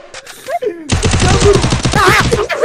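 Rapid automatic gunfire in Free Fire, a loud, dense burst mixed with game effects that follows a short stretch of a voice talking.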